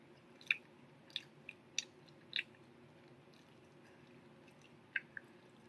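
Someone eats a juicy, crunchy Popeyes fried chicken sandwich close up, with a handful of separate wet bites and crunches spaced out over quiet moments, no talking.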